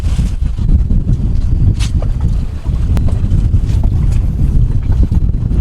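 Wind buffets the microphone while choppy water slaps steadily against a fishing boat out on Tampa Bay, a continuous loud rush with occasional splashes and no talk.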